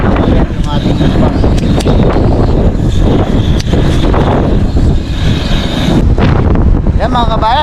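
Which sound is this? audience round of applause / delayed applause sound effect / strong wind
strong wind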